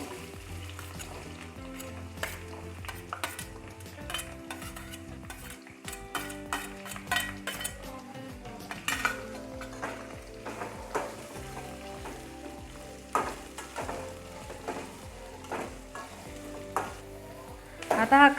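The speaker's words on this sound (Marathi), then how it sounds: "मिरची थोडा वेळ परतल्यानंतर त्यात आपण आता कांदा घालू." Chillies and then onion frying in a pan, a steady close sizzle with frequent scraping and clinking of a spoon stirring against the metal, no voices.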